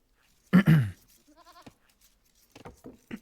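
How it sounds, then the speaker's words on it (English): A goat in the Age of Empires video game lets out a single short, loud bleat near the start. A softer call follows, then brief speech-like sounds toward the end. "Okay, Villese's going to find the goats at the back"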